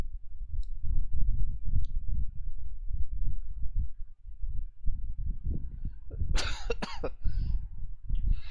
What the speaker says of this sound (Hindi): यार खांसी कितनी आ रही है